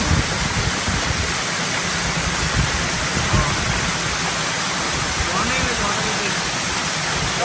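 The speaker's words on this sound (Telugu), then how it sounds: "చూడండి బ్యూటిఫుల్ వాటర్ ఫాల్స్" A waterfall in Chikmagalur, a dense, steady roar of rushing water heard close and loud, with a voice talking briefly over it.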